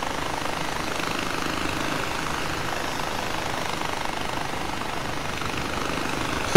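Helicopter flight in the video game Far Cry 3, a steady, dense rotor and engine drone holding at an even loudness throughout without pause.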